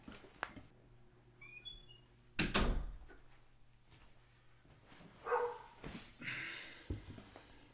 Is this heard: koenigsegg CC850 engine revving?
no